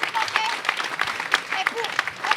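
At a French public security forum, an audience claps in a dense, steady patter while voices talk and call out over it throughout.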